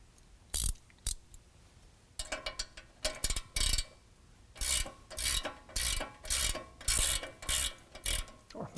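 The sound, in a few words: ratchet removing nut with 18 mm socket on Ford F-150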